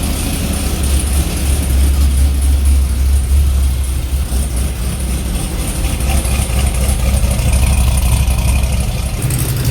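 A car engine with leaking exhaust runs loud and close at a steady idle, a rough, broadband roar with a ticking, hissing edge that holds evenly throughout, with no voices.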